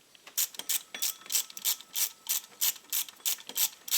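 Ratchet tightening the power steering pump bolts on a Peugeot 206 1.4 during an alternator change, a rapid series of sharp clicking strokes in steady rhythm, close and clear with no talk.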